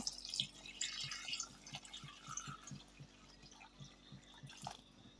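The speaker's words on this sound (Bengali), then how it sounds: "এখন আমি পানি দিয়ে দেব" Water poured into a pan of snakehead fish bhuna, a soft continuous trickle with light dripping splashes at close range, steady throughout with no talk.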